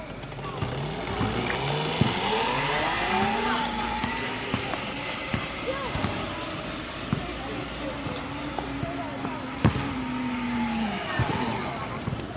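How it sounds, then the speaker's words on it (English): A 1000W 48V dirt bike with a 12Ah lithium battery, riding in first of three speeds: its electric motor gives a rising and falling whine under wind and road noise, with a voice speaking over it. "This bike with 3 speed. Here is the 1 speed."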